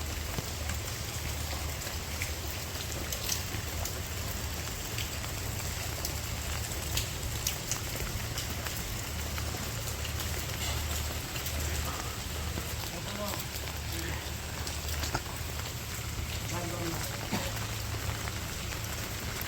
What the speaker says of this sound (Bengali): এই যে ওখানে জানগা বৃষ্টি আরো জোরে নামতেছে।